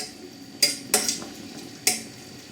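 Mashed potato being mixed with about 30 grams of butter using a potato masher in a bowl, giving three sharp separate clinks and scrapes against the dish over a quiet kitchen background.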